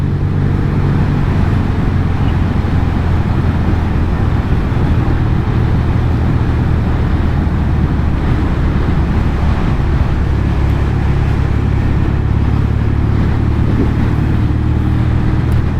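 Norton Commando 850 Mk2 classic British motorcycle engine idling steadily under very light throttle, a continuous loud low rumble with no pauses and no talk.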